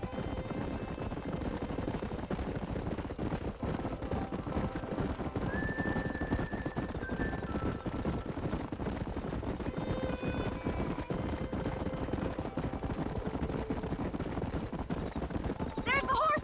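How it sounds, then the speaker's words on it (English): Horses in the Red Dead Redemption video game whinny and clip-clop over continuous outdoor ambience, with a neigh rising midway and scattered hoofbeats throughout. "There's the horses!"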